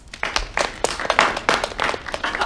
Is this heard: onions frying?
no